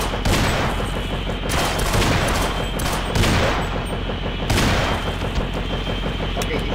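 Rapid machine-gun fire in the Sven Co-op shooter game, a dense continuous stream of shots with a few heavier bursts, loud throughout.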